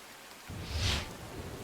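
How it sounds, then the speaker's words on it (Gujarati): A burst of broad rushing noise swells and fades, like heavy rain pouring down, with a low rumble underneath; monsoon downpour in Bharuch district, Gujarat. "ભરૂચ જિલ્લામાં ધોધમાર વરસાદ શરૂ થઈ ચૂક્યો છે"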